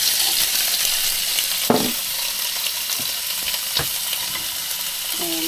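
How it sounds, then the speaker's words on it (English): Pork, tofu and vegetables stir-fried in a pan at a campsite, a steady close sizzle with occasional scraping stirs and clinks of the utensil against the pan. "Stirring through the vegetables. Add in the noodles."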